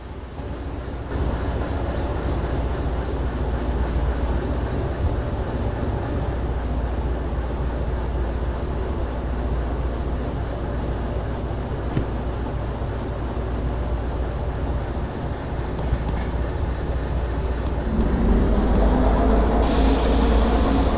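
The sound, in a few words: train running in video game Derail Valley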